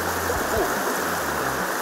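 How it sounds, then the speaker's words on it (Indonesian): A fast river current rushes over rocks, a loud, steady, broadband roar of flowing water filling the whole moment, close and unbroken, with no voices. "derasnya arus air serta bebatuan di sungai"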